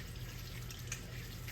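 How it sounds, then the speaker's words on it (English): A little tap water runs over purple hull peas being rinsed in a kitchen, a faint, steady hiss and trickle with a few small drips. "let me get these peas here rinsed off. Just put a little water on them."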